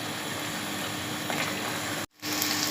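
Sohan halwa mixture made with angoori flour fries in ghee over medium heat, giving a steady, dense sizzle that holds throughout and cuts out for a moment near the end before resuming.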